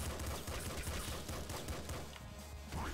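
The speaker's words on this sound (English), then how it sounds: "why are things blowing up? Exploding." Dense, continuous bursts of gunfire and explosions from the video game Nuclear Throne pile up into a loud, crackling barrage that runs through the whole stretch with almost no pause.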